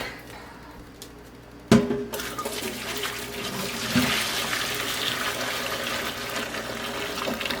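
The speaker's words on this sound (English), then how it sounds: "we are going to get water in the sink" Hot tap water gushes into a sink after a sharp knock as the faucet is opened, then runs in a steady, loud, close splashing stream with no one talking.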